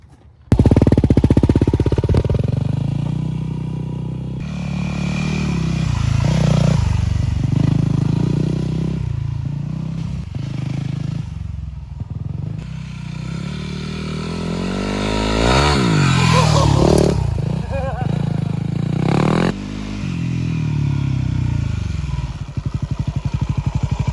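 A Yamaha WR250R dirt bike with an FMF Q4 exhaust rides wooded trails, its engine loud and close as it revs, climbs and drops with shifting throttle, with clattering and scraping along the way.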